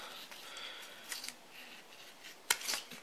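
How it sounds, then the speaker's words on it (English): Plain-edge blade of a Leatherman Sidekick slicing through heavy duty nylon rope, a few soft scraping strokes ending in a sharp snap-like cut near the end, close and fairly quiet. "let's try the plain edge through some heavy duty nylon rope, see how it performs"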